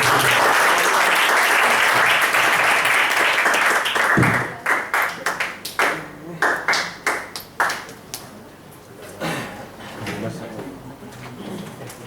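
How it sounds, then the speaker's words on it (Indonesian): A seated audience at a sales training session applauds loudly for about four seconds, then the clapping stops abruptly and is followed by scattered knocks and clatter with some talking. "Tepuk tangan."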